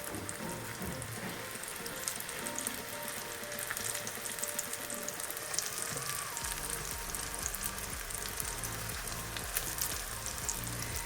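Steady sizzling of pies frying in oil, a dense crackling hiss that continues throughout with no talking.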